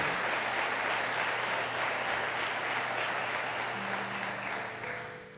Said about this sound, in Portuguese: Dê um aplauso de quem entendeu.